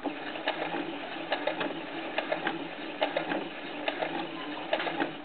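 A sewing machine stitches a channel in a fabric doll diaper, a steady close whirring hum with small periodic clicks and thumps from the needle, no talking.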